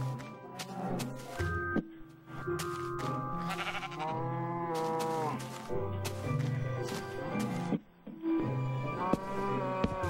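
Mushroom cows in the Minecraft video game give low lowing calls mixed with bleating farm animals, repeated throughout alongside game thuds, with people talking over the sounds.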